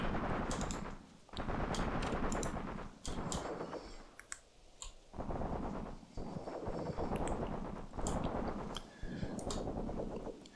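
Squad covering fire in the tactical war game Graviteam Tactics: bursts of sharp, rapid gunshots come in clusters with short pauses between them, crackling and fairly loud, with no talking.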